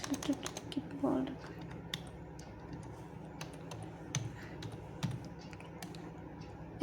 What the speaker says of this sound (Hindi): कीबोर्ड